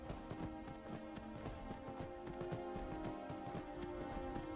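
Horse hooves clip-clop steadily and evenly in Skyrim as a horse is ridden toward a gate, a continuous rhythmic trot layered over ambient game music with no voice.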